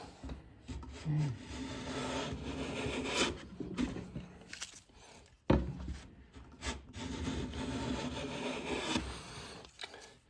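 A Wood River 5 1/2 jack plane shaves wood in repeated rasping strokes, a rough scraping rhythm of several passes, close and fairly quiet.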